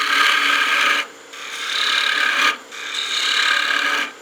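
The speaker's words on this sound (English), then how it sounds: "I'm going to go back to the spindle gouge." A spindle gouge cuts a wooden gnome Christmas ornament spinning on a lathe, giving a loud, close, steady rasping hiss in three long passes separated by brief pauses.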